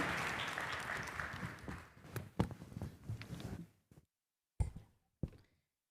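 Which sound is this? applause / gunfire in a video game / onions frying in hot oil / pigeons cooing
applause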